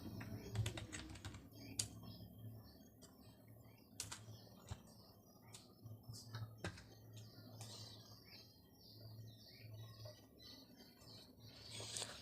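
Typing on a computer keyboard while setting up Kali Linux in a browser, producing scattered, fairly faint clicks and taps at an irregular rhythm over a low steady hum, with a few louder keystrokes standing out.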